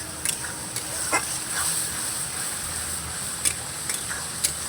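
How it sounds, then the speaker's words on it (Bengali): Garlic paste frying with onions in a pan for a Bengali chicken kosha, a steady close sizzle with a few sharp clinks and scrapes of stirring on top. "রসুনটাকে আমি পেঁয়াজের সঙ্গে ভালো করে ভাজা ভাজা করে নেব"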